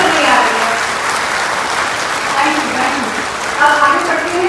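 Applause from an audience at a bank officers' general body meeting in Patna rolls on steadily, a dense wash of many hands clapping at moderate loudness, with a voice speaking over it.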